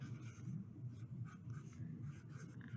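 Pen or pencil writing on paper during a craft project, a soft continuous scratching with small rhythmic strokes, close and quiet, with no talking.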